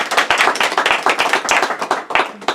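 A small audience at an interview claps in quick, distinct hand claps, close and fairly sparse, with individual claps standing out rather than merging into a roar.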